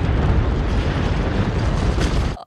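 A bomb blast from the 2023 animated Super Mario Bros movie: a loud, dense roaring burst with deep rumble that sustains for over two seconds, then cuts off abruptly to near silence, with no voices over it.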